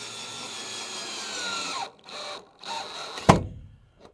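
Power drill driving screws into a campervan window frame, heard as a steady, close whir that drops away, two short spurts, then a sharp clack and a brief trailing buzz.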